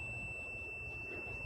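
An electrical tester gives a steady, unbroken high-pitched beep during a continuity check on the ASD main sense circuit wiring of a 2017 Jeep Cherokee. The tone is faint and short over a quiet background.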